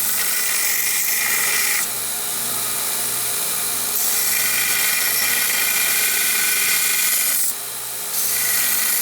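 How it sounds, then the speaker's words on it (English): A power drill bores a hole down the center of a piece of metal being forged into a gift, a loud continuous grinding whine with brief dips as pressure eases, no voices. "I'm just gonna go in, drill a hole down the center, and then probably grind it open from there, probably using the drill bit"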